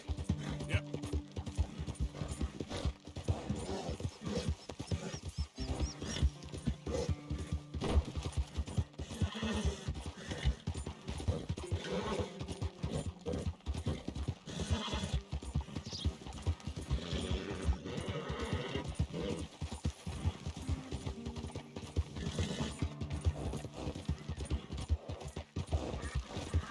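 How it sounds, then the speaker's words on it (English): Horse hooves gallop in a steady, rapid clip-clop rhythm throughout a Red Dead Redemption 2 game ride, with occasional neighs and faint game sounds mixed in, continuous and moderately quiet. "Meu cavalo tá ficando sem fôlego"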